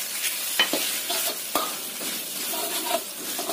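Bay leaves, lime leaves, galangal and ground shrimp stir-frying in a pan for lontong sayur and tofu gulai, a steady loud sizzle with occasional scrapes and clinks of a spatula stirring, close and without speech.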